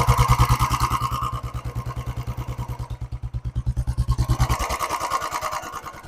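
Royal Enfield Bullet motorcycle idling with the microphone held close to the engine, a steady loud thumping beat of single-cylinder firing that holds its even rhythm throughout, with no talking.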